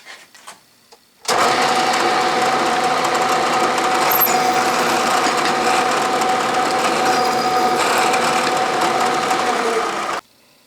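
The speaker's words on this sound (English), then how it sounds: "I'm going to drill that same hole, not all the way through though" A drill starts abruptly and runs loud and steady for about nine seconds, a close, continuous high-pitched mechanical whine as a 5/16 bit bores a hole partway into a hand vise part, then stops.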